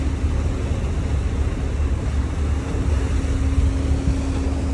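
The engines of a car ferry on the Igoumenitsa–Brindisi crossing churn the sea water during mooring, a loud, steady, deep rumbling wash with a faint constant hum and no talk.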